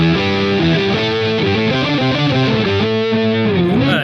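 Electric guitar runs through a rock preset with an octave effect into a Marshall 69 amp model with Green 25 speakers, gated, compressed, with reverb and delay: thick distorted chords held and shifting steadily, loud and up close throughout.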